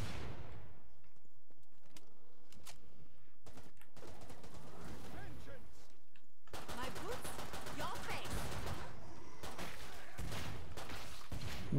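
Zombies shot in a commando-style video game: bursts of rapid, punchy gunfire, some dense and sustained like automatic fire, broken by short gaps and separate single shots, loud and close.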